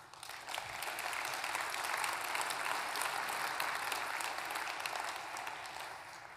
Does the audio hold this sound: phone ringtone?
no